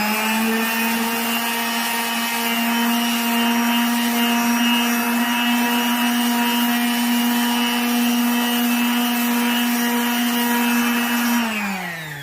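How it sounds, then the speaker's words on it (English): Power sander running steadily on the flat wooden sections of a bed, a continuous loud whine with a strong hum that holds even for about eleven seconds, then drops as the tool winds down. "I'm just using my sander now to do like the flat sections."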